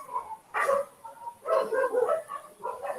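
Several dogs bark in repeated bursts somewhere outside, their yips and barks coming in uneven clusters at moderate distance, with no talk over them.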